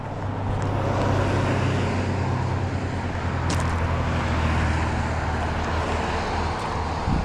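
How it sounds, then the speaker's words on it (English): Road traffic passes near a gravel trailhead parking area, a loud continuous roar of tyres and engines with wind buffeting, steady throughout with no pauses and no voices. "the traffic has picked up a little bit in just the last few minutes"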